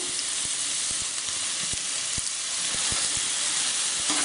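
Chana dal, urad dal and grated tender jackfruit frying in a pan for jackfruit palya, a loud constant sizzle broken by regular sharp clicks of a spatula stirring against the pan.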